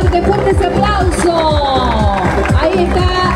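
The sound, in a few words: crowd applauding at a parade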